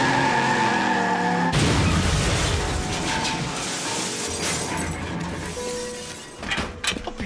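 Formula 1 race car in a comedy puppet sketch skids with screeching tires, then slams into a wall with a loud crash and shattering debris, followed by rumbling aftermath and a few clattering bits.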